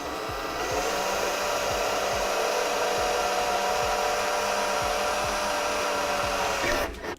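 A drill runs steadily for about seven seconds, boring a 3mm pilot hole while fitting a fish finder on a boat, with a continuous close whine that stops abruptly at the end.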